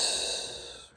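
A deep exhale through the mouth during a breathwork exercise, one soft, airy breath fading out over about a second, close and alone.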